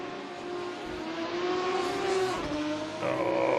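Race cars in a sim racing game scream along the start-finish straight at Monaco, their high engine notes rising and shifting as they pass, loud and continuous with no talk.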